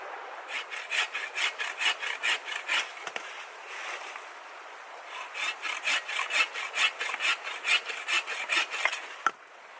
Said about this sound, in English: Just using my Boreal Agua Canyon 21. I love this saw.